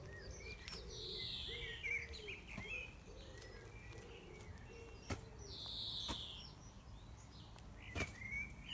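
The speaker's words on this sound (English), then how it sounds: "That's a pigeon you can hear in the background, big fat wood pigeon" A big wood pigeon coos a repeated five-note phrase, faint and distant in a garden, with bright bird chirps and occasional clicks around it.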